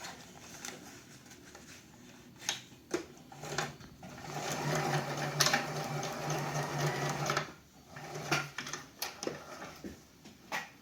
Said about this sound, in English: using a sewing machine, or again you can use hand stitching, we'll go create a sewn X over the Velcro